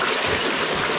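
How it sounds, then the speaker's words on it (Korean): A mountain stream runs in the clouds near Yeonhwacheon shelter on Jirisan, giving a steady, close, full-band rush of flowing water with no break and no voices. "구름 속에 개울이 흐른다."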